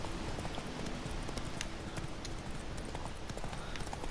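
Steady clip-clopping of a horse's hooves at a trot in The Witcher 3, continuous and fairly near over ambient game noise, with no talk.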